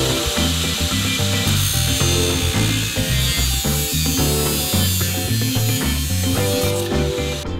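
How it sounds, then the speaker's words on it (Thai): Angle grinder cutting a 45-degree corner on an aluminium screen door frame during home DIY work; a steady, loud, continuous buzzing grind with pulsing texture runs throughout with no talk. "เราก็จะทำการตัดมุมนะครับ45องศานะครับผมก็ง่ายๆครับใช้ลูกหมูตัด"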